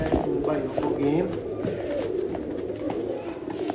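Sialkoti pigeons coo softly in a continuous, close chorus while someone talks over them.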